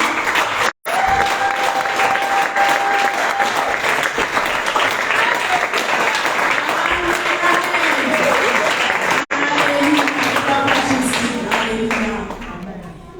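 Loud, sustained applause fills a church hall as the congregation claps together, mixed with crowd noise and voices, continuing steadily before fading slightly at the end.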